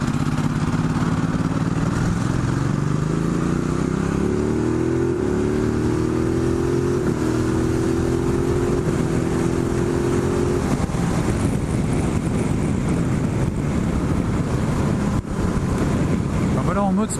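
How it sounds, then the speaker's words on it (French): A Ducati Multistrada 1260S motorcycle in sport mode revs hard and accelerates, its pitch climbing through several gear changes before settling into a steady, loud roar with wind rush. "en mode sport, une bonne accélération"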